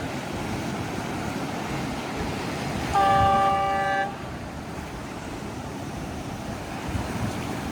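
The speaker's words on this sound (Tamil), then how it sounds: "இப்போ ஒரு ட்ரெயின் வெள்ளவத்திலிருந்து பம்பலப்பட்டி நோக்கி போய்கிட்டு இருக்கு." A train passing near Wellawatte beach sounds one sustained horn blast of about a second, standing out over steady surf and wind noise along the shore.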